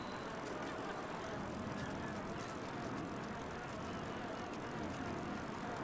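Bicycle riding in the game GTA 5, a steady faint whir of tyres and rolling noise with wind and distant traffic, continuous throughout with no pauses.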